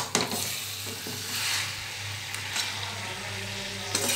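Mutton curry (khashir mangsho) sizzles steadily in a pan over a low flame, a continuous soft frying hiss with occasional clinks of stirring, and no voices.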